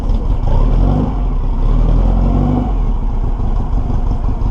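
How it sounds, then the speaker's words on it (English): A hot rod Chevy engine runs loud and close at a rough, steady idle with a low rumble and some clattering, holding even throughout with no voices. "So we're going to do a little cold start here."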